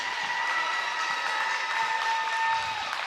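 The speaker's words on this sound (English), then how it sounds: "please give these seniors and their parents another big round of applause" Crowd applause at a basketball game honoring seniors and their parents, steady clapping and light cheering in a large gym, with a sustained tone ringing underneath.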